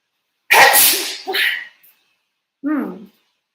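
A single loud, close sneeze with a sharp breathy burst and a shorter follow-up exhale, then a brief voiced sound after a pause.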